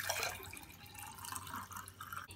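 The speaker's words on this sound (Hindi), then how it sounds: "अब हम इसे छान लेंगे।" Boiled fennel seed water is strained, giving a faint trickle and light drips of liquid pouring through a strainer, quiet and close.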